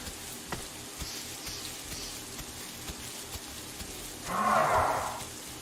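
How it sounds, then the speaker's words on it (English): Steady rain patters on surfaces in a dinosaur survival game at night, a soft continuous hiss with scattered drops, then a brief louder swell of sound near the end. "it's been raining for like 8 hours in game"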